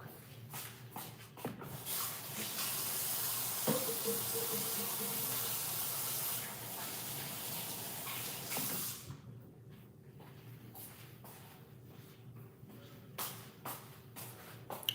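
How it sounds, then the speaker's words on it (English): Tap water runs into a sink for hand washing, a soft steady spray for several seconds between quiet shuffling and handling noises, then stops. "Let me wash my hands real quick."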